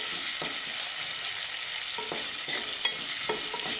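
Chopped tomato goes into small shallots already frying in a pan for a Kerala-style sardine curry, setting off a steady, close crackling sizzle with a few soft stirring knocks throughout.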